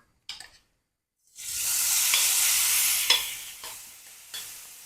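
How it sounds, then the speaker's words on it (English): Beef strip loin strips hit hot olive oil in a pan with a loud, steady sizzle that holds for several seconds after a brief clatter, with a few sharper pops and scrapes as the frying settles slightly. "Once the pan is hot, I'm going to add olive oil, and I'm going to add our beef."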